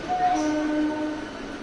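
Local passenger train, the Panskura–Santragachi service, pulling away from a station on a light drizzly day, with a steady rumble of the coaches and a brief horn tone near the start, fairly loud and with no talk.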